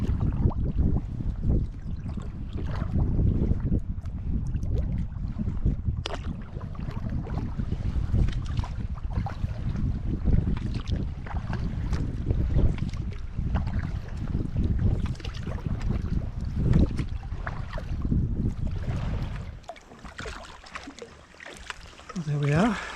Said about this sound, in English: paddling into Tobermory Bay, and yeah, fantastic day on the water